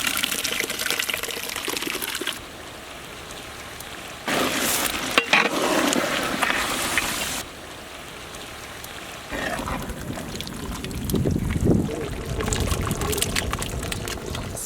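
Masala mix stirred into sizzling mutton rogan josh cooked without onions or tomatoes: loud bursts of frying sizzle and scraping stirs alternate with quieter simmering stretches.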